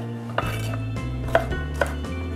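A knife cuts a bell pepper into diamond shapes on a board, with about half a dozen separate crisp chops spaced unevenly over a steady low hum.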